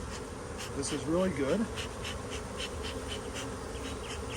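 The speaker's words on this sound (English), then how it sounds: "I'm going to see if I can smoke these bees down." A close, continuous drone rises from an open-air honey bee swarm clustered beneath a trap, with a man's brief remark cutting in partway through over the steady buzz.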